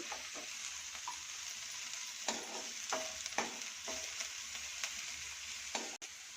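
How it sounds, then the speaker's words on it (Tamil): Onions frying in a pan for a veg momo filling, a soft continuous sizzle broken by repeated spatula stirs and scrapes, close but fairly quiet with no voices. "இப்போ வெங்காயம் நல்லா வதங்கிருச்சு."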